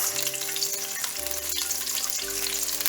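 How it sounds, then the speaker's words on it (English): Whole garam masala spices fry in hot oil in a pot for aloo gosht, a dense, steady sizzle that runs the whole time at close range, with a few stirring knocks and no voices. "Then we can add our garam masala pieces and give them a good mix."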